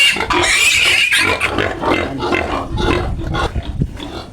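Piglets on a farm squeal loudly and continuously up close, several shrill cries overlapping with grunting and shuffling underneath.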